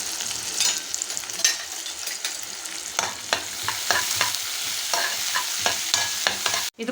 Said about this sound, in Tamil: வெங்காயம் எடுத்துருக்கேன் நான் இப்போ இதை நல்லா வதக்கிக்கலாம்